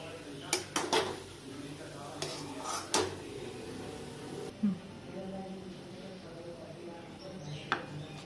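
Wheat flour sheera made with ghee and jaggery being served onto a plate in a home kitchen, with scattered clinks and scrapes of a spoon against utensils and dishes over quiet room tone, and someone speaking at times.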